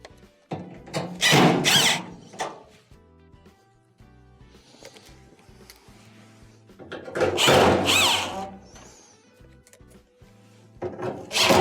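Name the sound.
screws being reinstalled on a dryer panel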